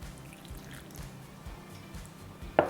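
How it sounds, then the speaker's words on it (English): Orange juice trickles into Urmy's egg-free butter cake mix in a faint, low liquid pour, ending with a single brief splash. "start adding in your orange juice"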